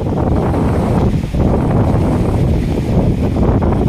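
Heavy rumbling wash of strong waves on the Manila Bay shore with buffeting wind noise on the microphone, loud and continuous.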